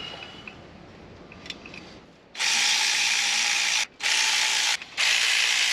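A ratchet wrench tightens a bracket on a twin-supercharged 350 engine. It starts after a quiet pause with three loud, close bursts of rapid clicking, each separated by a short gap.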